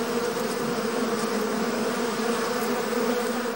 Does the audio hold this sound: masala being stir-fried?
no